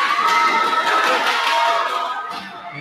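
A boxing crowd at a championship bout in Cebu cheers and claps steadily, a dense, loud wash of voices and applause that tapers off slightly toward the end.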